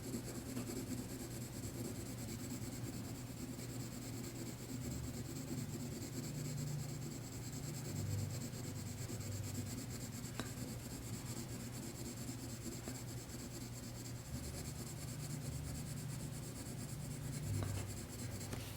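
A colour pencil stroked back and forth on paper to blend layers, a soft, steady scratchy rubbing heard close up and continuing without a break, with no talk.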